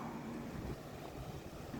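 Strong sea waves break on a shore during a gale warning, a continuous loud roaring wash mixed with wind noise, with no voices.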